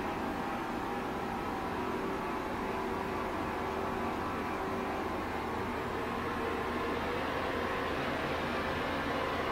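A 2010 Mighty Viper VT36CL-1500 vertical turret lathe spins up from 200 toward 460 RPM, a steady broadband machine whir and hum holding at a constant level with no talk.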